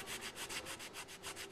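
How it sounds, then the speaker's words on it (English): Marble column fluting gets a finish sanding during Parthenon restoration, with quick, even back-and-forth rasping strokes, about six per second, close and steady. "The restorers now need only apply a finish sanding to the most distinctive feature of the"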